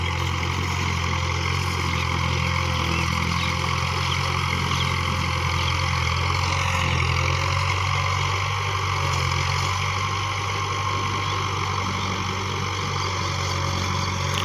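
An Iranian-built MF 285 tractor drones steadily and loudly while pulling an 11-tine plough with the lever fully down. The engine holds an even, continuous pitch, with no voices over it.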